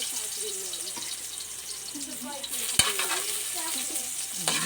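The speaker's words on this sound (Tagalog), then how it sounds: "Una muna mag-isa tayo ng bawang." Garlic sautés in hot oil in a pan with a steady sizzle and frying crackle, interrupted by occasional stirring scrapes and a sharp clink partway through.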